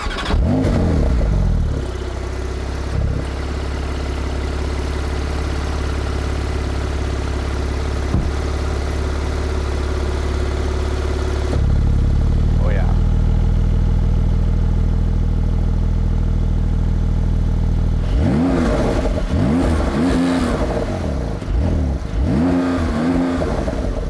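A 2021 Porsche 911 Turbo with sport exhaust starts and settles into a loud, deep idle, holds steady, then revs hard in several rising and falling sweeps near the end.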